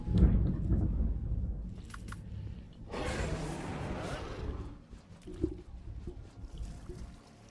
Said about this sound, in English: Just a reminder, there's a thunderstorm going.